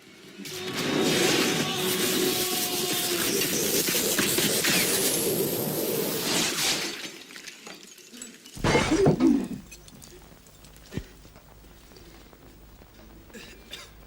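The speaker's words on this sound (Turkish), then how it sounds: "Kırıldı ya. Sana hiçbir cam dayanmaz Abdi abi." Glass shattering in a comedy scene, a long, loud crash of breaking glass that fades into quieter debris, followed by a sharp impact and a later click.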